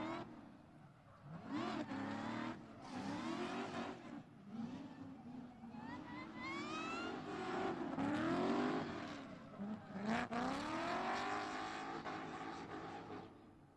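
A Formula Drift competition car runs a bye run on track, its engine loud and close, revving and sweeping up and down in long rising and falling waves for the whole stretch, with a commentator's voice faintly underneath.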